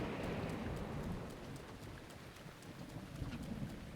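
A thunderstorm in The Legend of Zelda: Breath of the Wild: steady heavy rain hissing across surfaces with a deep low rumble of thunder underneath, loud and continuous, with no voices.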